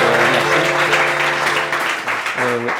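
A crowd at a coding bootcamp demo day in Rennes claps for a presenter about to speak, a steady wash of applause with a voice talking over it.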